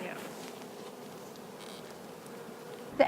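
Honey bees buzz in an opened hive during a beekeeping inspection, a soft, steady close drone throughout, with a brief knock at the very end.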